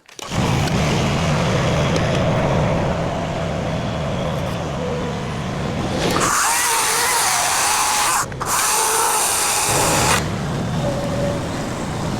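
A loud, steady chainsaw roar runs for the whole stretch, shifting pitch as the saw bites into logs, then easing and revving again.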